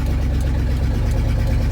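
A 1977 Dodge Power Wagon plow truck engine idles steadily up close, a deep low rumble with an even rhythmic throb and no talking.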